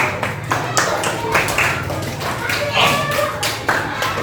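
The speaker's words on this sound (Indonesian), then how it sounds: "Tepuk tangan untuk kelompok Yaumul Hisab." A crowd of schoolchildren claps in a burst of applause for a student group, sharp hand claps overlapping steadily, with voices chattering in the background.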